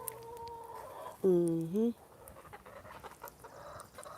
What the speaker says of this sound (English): we are going to go over here and give these chickens a treat and let them out